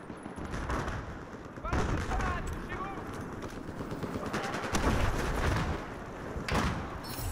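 Gunfire and a grenade explosion in the Battlefield 4 video game, with bursts of shots and heavy thumps in rapid succession, and someone talking excitedly over them.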